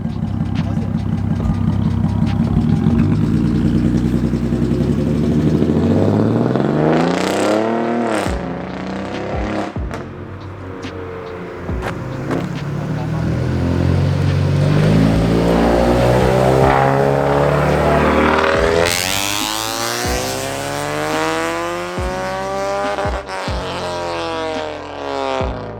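Subaru 2008 Legacy GT Spec B with no muffler revs loudly close by, the engine note climbing and falling through several harsh surges before pulling away, with people talking over it.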